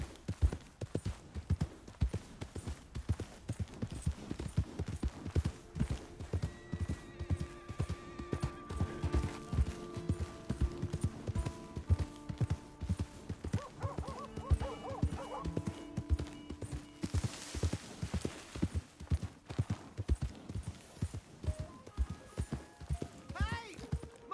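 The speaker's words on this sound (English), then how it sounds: "Hey, my horse!" Horse hooves clip-clop in a steady, close rhythm throughout a ride in the video game Red Dead Redemption 2, with a brief whinny and voices speaking over the trotting.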